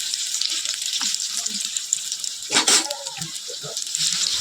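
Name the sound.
shrimp and potato chops frying in oil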